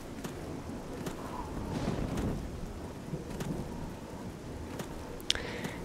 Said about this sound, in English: It's been raining like crazy.